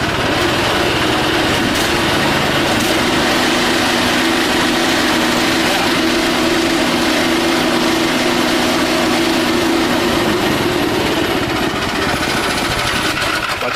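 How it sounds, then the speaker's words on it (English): A small engine on a DIY hot rod go-kart revs steadily with one wheel lifted off the ground, giving a constant, loud, buzzy drone that continues without a break. "right now the engine is on. When I give gas, the train turns because I have one wheel is lifted"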